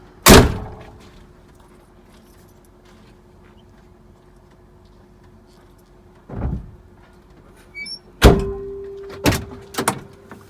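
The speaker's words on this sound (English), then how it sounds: "Shut my door." A truck cab door shuts with a sharp, solid thunk at the start, followed by a few scattered knocks and thumps later on.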